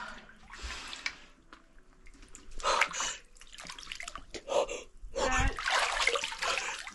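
Cold water splashed over the head outdoors on a Latvian road trip, several bursts of splashing and dripping mixed with sharp gasps and heavy breathing at close range.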